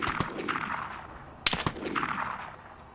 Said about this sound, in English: That guy just shot me on sight right there.